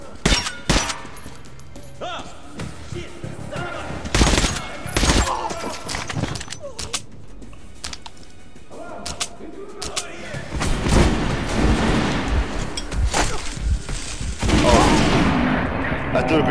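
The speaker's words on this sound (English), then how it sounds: "I threw a grenade on myself by accident." Grenade explosions and gunfire in Metro Last Light, with sharp bursts and thuds scattered through the clip, then a heavier, sustained blast and rumble in the later seconds, with occasional voices.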